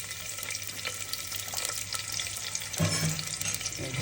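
Onion and a bay leaf go into hot oil, giving a steady loud sizzle and crackle with stirring noises and a slightly stronger burst of frying toward the end.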